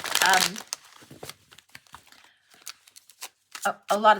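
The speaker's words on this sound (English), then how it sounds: "Okay, Janelle, I want to give this a few shuffles because it's new." Crisp shuffling of a new tarot deck crackles in quick bursts, starting loud, thinning to scattered riffles and snaps, then swelling again near the end.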